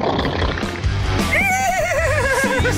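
A man imitates a horse's neigh on a radio show, a loud wavering whinny with warbling pitch rising over background sound and a low voice in the middle of the clip.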